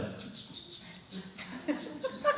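A person imitates birds without moving their lips, producing a quick series of high chirps and tweets during a storytelling performance, followed by a few softer squeaky calls, with some talking mixed in.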